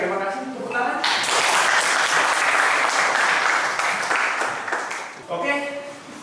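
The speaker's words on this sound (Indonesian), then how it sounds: "Tepuk tangan." A classroom audience breaks into applause for a nursing lecture participant, a dense burst of clapping lasting several seconds, with a voice speaking just before and right after it.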